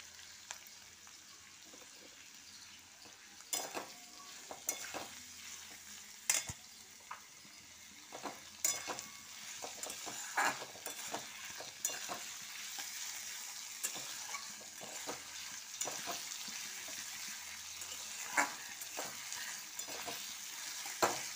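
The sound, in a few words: onions and fish frying in a pan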